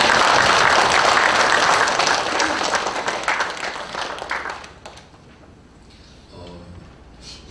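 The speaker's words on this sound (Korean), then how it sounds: "우리 박수로 축복하십시다." A church congregation applauds during a Sunday worship service, with dense, loud clapping that gradually fades to scattered claps and quiet room murmur by the end.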